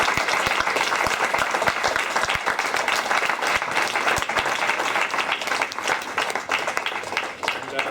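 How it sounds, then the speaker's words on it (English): An audience at a think tank event on the European migrant crisis gives a sustained round of loud, dense clapping that fills the room at a steady level until it thins slightly at the end. "can we get a round of applause for..."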